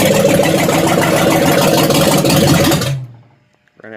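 A 1967 Chevelle V8 engine, mounted on the back of a vehicle, runs loud and steady with a rough idle, then sputters and dies as it runs out of gas, fading to near silence before a faint clunk.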